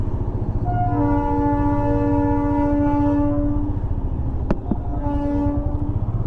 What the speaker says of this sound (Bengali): বাহ, টয় ট্রেনটা তো নতুনত্ব।